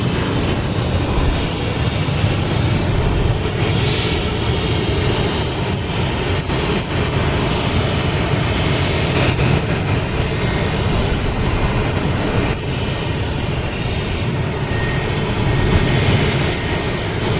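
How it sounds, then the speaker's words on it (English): American Airlines Boeing 737-800 arriving at Boston Logan from Chicago, its jet engines a loud, sustained rumbling roar that stays steady for the whole stretch, with no talking. "That's American Airlines coming in from Chicago, 737-800."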